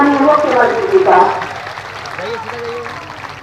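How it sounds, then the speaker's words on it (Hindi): Audience applause welcomes the chief minister at the inauguration of the Ganga bridge in Munger, a broad wash of clapping that fades over a few seconds, with a voice over a loudspeaker. "जोरदार तालियों के साथ स्वागत करें माननीय मुख्यमंत्री जी का।"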